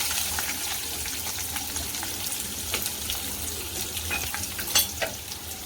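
Two finely chopped onions fry in a pan with curry leaves for kanda poha, giving a steady close sizzle with scattered crackles and pops, without any talking.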